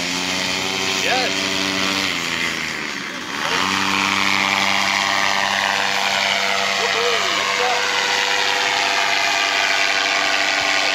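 A paramotor engine runs at full throttle close by, a loud steady buzzing drone with strong harmonics that dips briefly before returning to full power, with people shouting and cheering over it.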